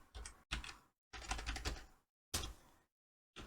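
Computer keyboard typing comes in short bursts of clattering keystrokes, separated by brief silences, close and fairly quiet.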